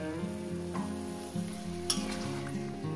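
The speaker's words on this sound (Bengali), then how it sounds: "এরপর দিয়ে দেবো মশলা বাটাটা, মশলা বাটি দেওয়া জলটা আমি দিয়ে দেবো। দিয়ে দিলাম, এবার এটাকে কষে নেব।" A pan of beans fried with ground spice paste and a splash of spice water, made with gandal leaves, sizzles steadily at close range, with a few soft stirring scrapes and a brief clink partway through.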